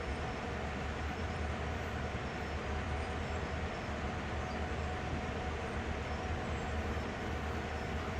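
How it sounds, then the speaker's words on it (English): Constant dense rumble and rolling noise from other locomotives being passed in Train Simulator World on a misty autumn evening, steady and moderately loud throughout with no distinct events. "The noise you can hear are the other locomotives we're going past"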